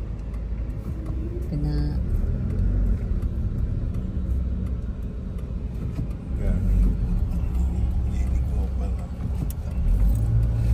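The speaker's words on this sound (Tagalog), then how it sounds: "Traffic talaga yung ano natin." Steady road traffic in a busy city street, cars, buses and a pick-up rumbling past at close range, a continuous low engine drone with swells as vehicles pass, people talking over it.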